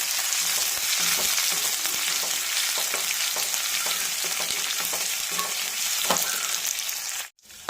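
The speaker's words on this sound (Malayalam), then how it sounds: "വറ്റൽമുളക്, ഉള്ളി, കറിവേപ്പില എല്ലാം കൂടെ ചേർത്ത് മൂപ്പിച്ചെടുക്കാം." Dried red chillies, onion and curry leaves frying in hot oil give a steady, close, dense sizzle with occasional stirring scrapes, continuous for several seconds and then cutting off abruptly near the end.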